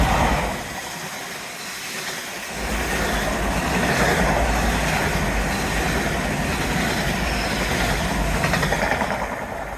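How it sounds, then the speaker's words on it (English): A low, steady rumble of a train rolling past, fairly quiet and continuous, rising slightly after a brief lull at the start with no talking. "it's a really quiet train"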